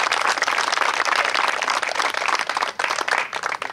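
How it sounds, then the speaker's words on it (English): A crowd at a high school boys varsity baseball induction ceremony claps for Mark and Roxanne, with dense, steady applause throughout. "And I'd like a round of applause for Mark and Roxanne for everything they've done."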